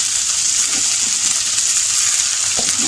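Raw jackfruit pieces fry in a pan for a Malvani-style vegetable dish, giving a steady, loud, continuous sizzle with faint stirring scrapes throughout and no voices.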